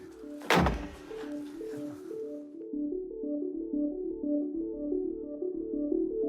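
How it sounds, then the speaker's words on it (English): A car hood slams shut with one sharp, loud thud, then a low, repeating tonal hum continues alone afterward. "Close the hood, stop looking."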